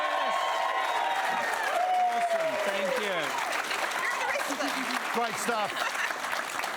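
A studio audience claps and cheers steadily for the band on a comedy panel show, a dense crowd wash throughout as a host speaks briefly over it.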